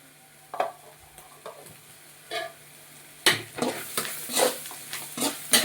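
Egg and cluster bean fry with masala powder and coconut, cooked in a little oil, is stirred in a pan, giving a steady sizzle under close, repeated scraping strokes that grow busier and louder in the second half.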